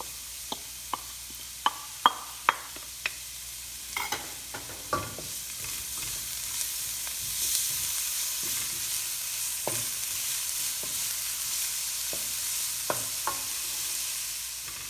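Ginger fries in a hot pan for pork binagoongan, a continuous gentle sizzle with a series of sharp spoon taps and scrapes early on, fairly quiet and close.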